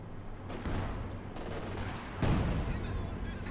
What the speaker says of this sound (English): Field gun shoots.